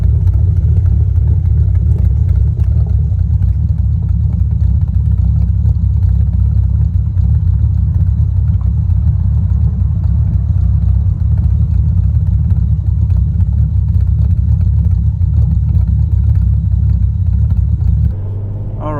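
A 5th-generation Chevrolet Camaro engine idles outdoors with a deep, steady rumble that holds loud and even throughout, no clear rev climbs standing out before it drops away at the very end.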